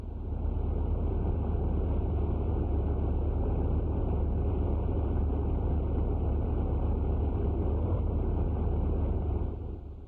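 A 1941 bomber aircraft engine runs at full rated power on a test stand, a loud, steady, unbroken roar that holds for the whole stretch, with no voices.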